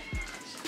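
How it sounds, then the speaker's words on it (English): A single short cat meow, fairly close and moderately loud, while cats are being fed their bedtime meal in a home. "if you hear my cats and noise in the bedroom, hubby is feeding them"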